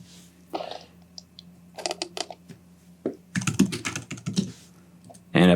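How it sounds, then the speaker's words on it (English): Close, rapid typing on a computer keyboard comes in short bursts of clicking keystrokes, separated by brief pauses, with a louder clack at the very end. "we're going to type in the first name"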